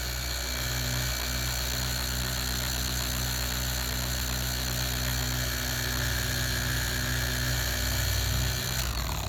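A Flex PXE80 polisher fitted with a waffle pad runs close up on car paintwork, giving a continuous high-pitched motor whine with a steady buzzing vibration that wavers slightly near the end.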